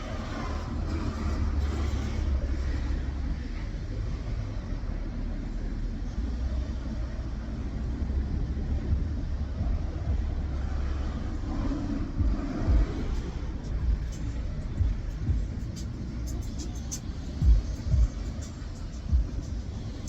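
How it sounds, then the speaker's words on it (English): Cars of a funeral procession, including a silver hearse carrying a casket, idle outside with a low, steady engine rumble and a few brief knocks and shifts near the end. "a funeral procession literally just pulled up"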